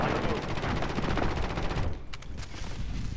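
Rapid bursts of automatic gunfire in Call of Duty: Modern Warfare crackle continuously, then thin out to a few sharper isolated shots over a noisy background, with some voices faintly mixed in.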